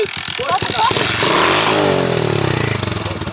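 A ProTork TR100F mini motorcycle engine revs hard with the throttle twisted fully open, a loud, close, raspy buzzing roar that swells and sputters, while someone talks over it.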